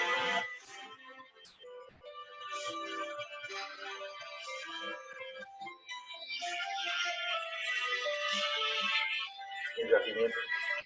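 A phone ringtone plays a looping melodic tune for several seconds at moderate volume while people talk over it.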